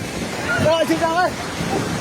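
A flooded river in Nepal roars past in a steady, broadband rush, while distressed voices cry out and shout over the churning water.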